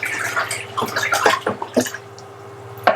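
Stirring yeast nutrient into a bucket of elderflower wine, a short run of sloshing, swirling liquid with small splashes, close and fairly clear, fading toward the end.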